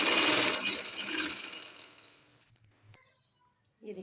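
A sewing machine runs steadily along a trouser hem, doubling a line of stitching. The loud whirring fades out after about two seconds, a few faint mechanical clicks follow, and a short rustle comes at the very end.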